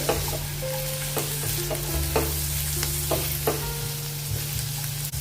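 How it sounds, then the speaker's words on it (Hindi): Finely chopped carrot and capsicum sizzle in a hot pan while a spoon stirs them, with repeated sharp scraping clicks over a constant frying hiss and a low steady hum. "अभी इसमें डालेंगे बारीक कटा हुआ गाजर, शिमला मिर्च भी डाल देंगे। अच्छे से मिक्स कर लेंगे इसको।"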